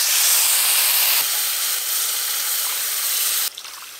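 Water pours into a hot pan of fried spiced rice, raising a loud, steady steaming hiss and sizzle close by that drops off sharply near the end.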